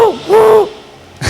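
A voice imitates an ordinary pigeon, giving two loud, close, hooting coos that swoop down and up in pitch, followed by a brief pause and a short noise.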